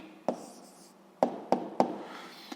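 Pen on paper while a physics answer is written down, a few sharp separate taps and short scratchy strokes, close and quiet with no talk.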